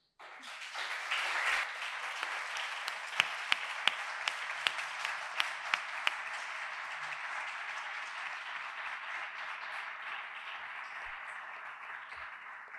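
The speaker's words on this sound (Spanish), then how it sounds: "Pido un aplauso para todos nuestros ponentes." An audience applauds after a poetry recital, a dense, sustained wash of clapping rising quickly and holding steady for over ten seconds, with a few sharper individual claps standing out early.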